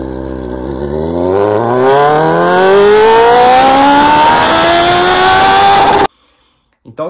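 A Kawasaki Z750 motorcycle accelerating hard in first gear, its engine note climbing steadily in pitch for about six seconds, loud and close, then cutting off abruptly.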